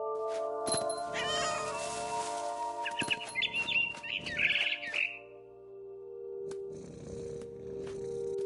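A video game cat meows and caterwauls in several drawn-out cries, close and clear, with bird-like chirps and a soft music bed behind.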